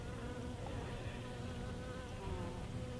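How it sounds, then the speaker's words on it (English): Dense, steady hum of honeybees packed inside a hive during a winter colony check in the UK, a continuous close-up drone lasting throughout with no talk. "you can see that each frame is built out, and it's full of bees in there"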